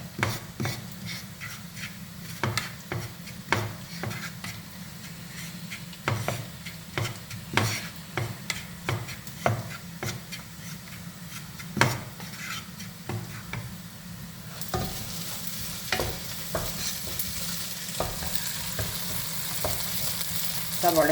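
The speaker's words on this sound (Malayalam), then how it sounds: "രണ്ടര ടീസ്പൂൺ മുളക് പൊടി എടുത്തിട്ടുണ്ട് കേട്ടോ നമുക്കിതൊന്ന് ചൂടാക്കാം" Chili powder heating and sizzling in a pan as it is stirred, for a Kerala-style rabbit roast: a steady close frying hiss with repeated scraping strokes of a spoon against the pan, no voices.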